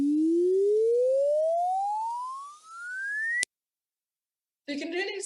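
Graphing calculator sonifying a straight line: a single steady electronic tone glides smoothly upward in pitch for about three and a half seconds and stops abruptly, followed by silence and then brief talk.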